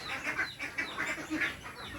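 Young ducklings quack in a steady chatter of repeated short calls, close and fairly loud, with no talking.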